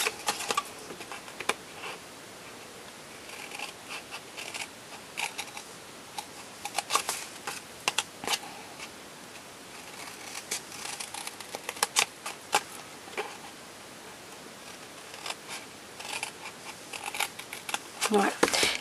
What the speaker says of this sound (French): Je prends donc mes ciseaux